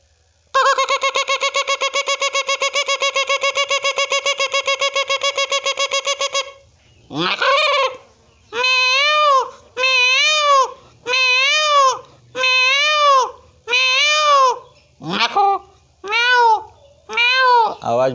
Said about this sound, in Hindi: अब इसकी सुंदरी चिड़िया की आवाज़ देखिए, मोर कैसे बोलता है, जिसे राष्ट्रीय पंछी कहते हैं